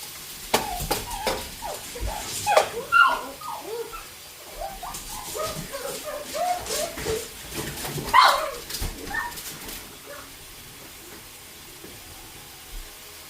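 A dog barks repeatedly nearby in uneven bursts with some whimpering between, while water heats on a stove for boxed rice, a faint steady hiss underneath.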